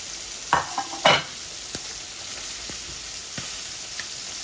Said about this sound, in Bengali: আমার মাছগুলা ভাজা ভাজা হয়ে গেছে আমি গ্যাস অফ করে নিয়ে আসছি